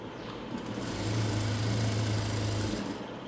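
A sewing machine runs in one steady, close burst of about two seconds, stitching the side seam of a 38-inch chudidar, its motor humming and whirring under a faint background rasp, with no voices.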